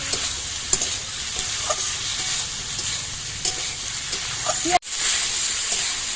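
Onions sizzle and crackle in a hot pan with salt added, with the occasional scrape of stirring and a brief break near the end.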